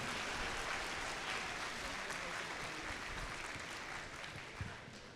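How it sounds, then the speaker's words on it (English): Students in a large venue at a Gwinnett County robotics district event applaud, a faint, distant, continuous wash of clapping with no distinct individual claps. "So students, please give them a huge round of applause."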